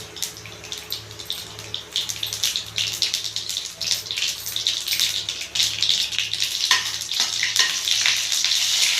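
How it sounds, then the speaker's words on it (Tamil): Mustard seeds and urad dal crackle and sizzle in hot oil with a dense, close stream of popping and spitting that grows over a low steady hum, with no voices. "ஆயில் சூடாயிடுச்சு. கடுகு உளுந்து சேர்த்துப்போம்."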